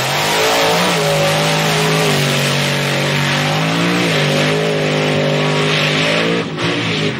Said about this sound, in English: Great side-by-side monster truck race.